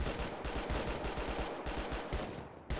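Machine gun fire in the retro shooter Vicewave 1984 rattles in rapid, evenly spaced loud bursts, nearly continuous, with a brief pause near the end before another shot.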